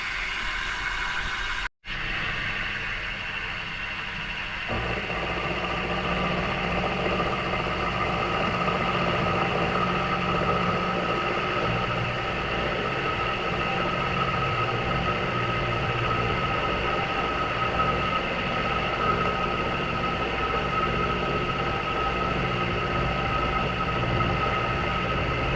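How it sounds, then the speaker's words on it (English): A homemade toolpost milling spindle on a Myford lathe cuts a slot, making a steady, continuous whir and grind that holds an even level after a brief start. "I'm going to try milling a slot across the front of that."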